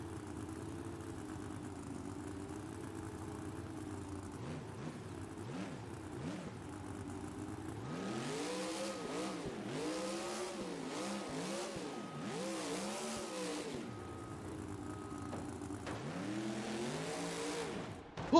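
Toro Loco monster truck roaring through a freestyle run in a stadium, engine revving hard in repeated rising and falling bursts, loud and close over a steady crowd and arena hum, with no talk.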